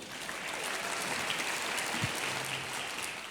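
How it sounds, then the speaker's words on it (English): A conference audience applauds in a thick, continuous wash of clapping as speaker Peter Espersen comes to the stage, steady and fairly loud throughout with no talking. "big round of applause, Peter Espersen."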